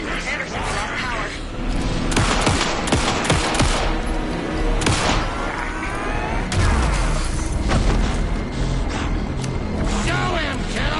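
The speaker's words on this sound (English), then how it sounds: "Anderson, pin him down with gunfire for me to get the light on him." Gunfire from the video game Alan Wake 2 during a fight: rapid bursts of shots and booming impacts, loud and dense, mixed with game effects and shouted voices.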